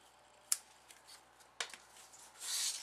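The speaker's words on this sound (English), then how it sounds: "And then trim it off." Scissors snip twice, crisp and close, trimming the ends of a knotted cotton ribbon on a handmade flower card. Soft rustling of the ribbon and paper follows.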